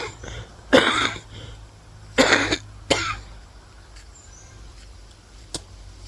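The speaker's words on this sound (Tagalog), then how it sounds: "Inuubo na." A few coughs from someone, apparently an elderly former elementary teacher in a rural province, come in two or three separate bursts over a low steady background hum, with a faint tick near the end.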